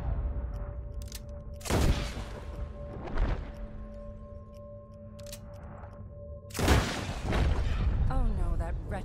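Gunfire in the Red Dead Redemption video game, a few sharp loud shots spaced several seconds apart, with in-game voices speaking between them.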